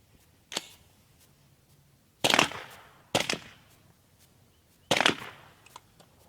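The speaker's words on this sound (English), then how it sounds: "GEMTECH subsonic 300 blackout ammunition, but this time we have the Surefire Socom SPS300 from the lapel shooter's view." Suppressed rifle shots from a Surefire Socom SPS300 firing subsonic 300 Blackout, heard at the shooter's position: four sharp, muffled cracks, each with a brief tail, spaced irregularly over a quiet background.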